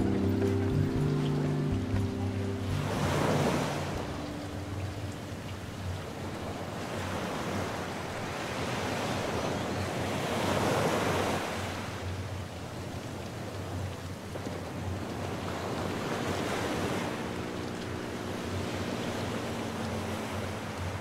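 Ocean waves at a beach roll in as slow, broad surges that swell and recede every several seconds, over a steady bed of wind and surf with no talking.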